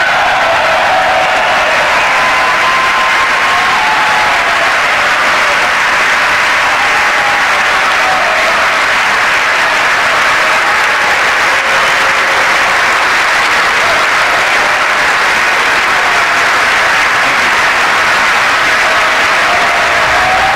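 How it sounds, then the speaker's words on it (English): Members of Congress at a 2015 joint session applaud and give a standing ovation after Israeli Prime Minister Benjamin Netanyahu's address, a steady, dense roar of clapping from a large hall that stays loud and unbroken for about twenty seconds. "interrupted by applause, roughly 40 times. Many of them, as you see here, standing ovations by lawmakers from both parties"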